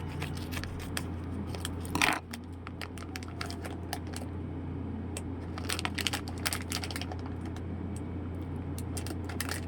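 Crisp, crackling crunches pop up repeatedly at close range, like bites into a crunchy snack, over a low steady hum.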